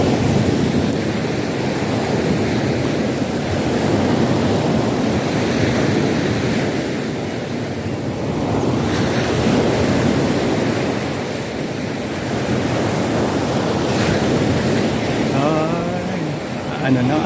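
Sea surf rolls steadily onto a beach in Mindoro, a loud continuous wash with wind buffeting the microphone and a voice briefly speaking near the end.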